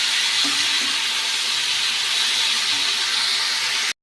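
Steady loud sizzling hiss of poppy seed and potato curry with drumsticks cooking in a pan after water is added, continuous and close, cutting off abruptly at the end.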